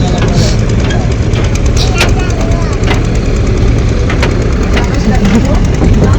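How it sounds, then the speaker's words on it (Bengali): A river launch boat approaches with its engine throbbing in a steady, rumbling drone close by, under wind and the chatter of voices on board. "ওই যে আরেকটা লঞ্চ আসতেছে"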